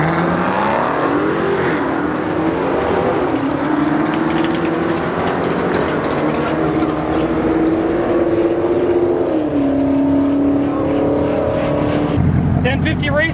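A twin-turbo Malibu race car accelerates hard down a drag strip, its engine note climbing in a loud, sustained roar that briefly dips and rises again before cutting off near the end, with voices talking over it.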